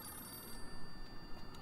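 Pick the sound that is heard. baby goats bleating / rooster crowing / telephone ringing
telephone ringing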